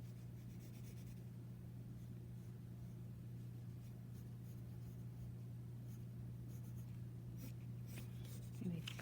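Pencil on paper while sketching a figure, a soft continuous scratching and rubbing under a steady low electrical hum, with a few quick strokes toward the end.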